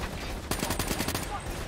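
A rapid burst of automatic gunfire in the video game Call of Duty Black Ops 3 cuts in after a quiet moment, a sharp rattling volley lasting under a second over steady game background noise.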